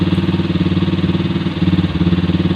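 A small carbureted engine idles loudly and close, its steady pulsing throb rising slightly as the carburetor gas screw is turned to raise the idle speed.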